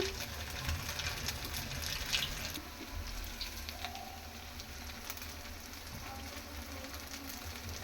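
Maharashtra-style sabudana vada, sago fritters, deep-frying in hot oil, giving a steady, dense crackling patter that runs throughout with no voices.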